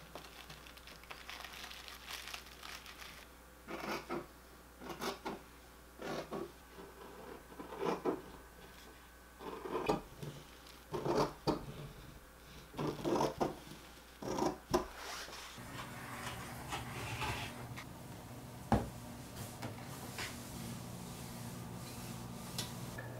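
Fabric pieces for a cowboy-style vest cut with scissors: quiet, close, irregular snips and rustles in short clusters over a steady low background hum, with no talking.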